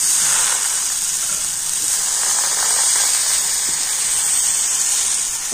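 Batter sizzles in a lightly oiled pan over low heat, making a steady, even hiss that carries on unbroken throughout with no talking.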